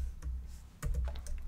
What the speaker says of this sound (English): I'm going to type alert and I'll just say A.